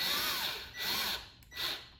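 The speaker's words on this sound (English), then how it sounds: "Use your drill gun with a 5/32 bit on it," A cordless drill fitted with a 5/32 bit drives into a wooden A-leg table leg, giving three close, loud whirring bursts, each about half a second long, separated by brief pauses.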